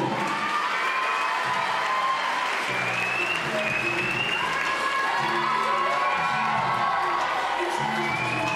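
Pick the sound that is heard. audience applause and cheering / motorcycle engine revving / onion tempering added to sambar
audience applause and cheering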